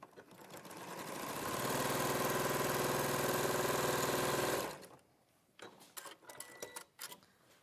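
A sewing machine stitches a seam joining quilt halves, running as a loud, steady buzzing whir for about four seconds before stopping, followed by faint clicks and handling noises.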